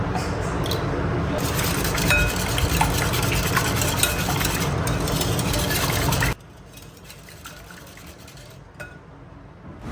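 Cake batter of eggs, milk, oil and vanilla essence is whisked with a manual hand beater, giving a continuous wet churning and clinking in a bowl for several seconds before it stops, leaving quiet room tone.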